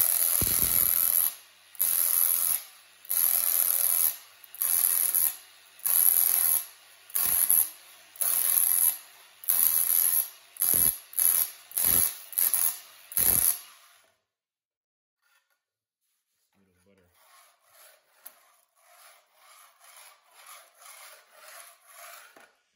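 A Dewalt SDS hammer fitted with a Milwaukee floor scraper strips flooring in repeated loud rasping bursts with short pauses between them, then falls quiet before softer scraping and clatter resume.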